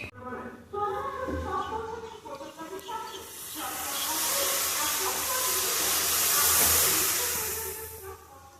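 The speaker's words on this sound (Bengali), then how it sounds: "এই যে দুধটা আমার ফুটে যাচ্ছে ফুটছে" Milk heats in a pot for homemade yogurt, a steady hissing and bubbling that swells over several seconds and stays loud near the end, with someone talking over the first part.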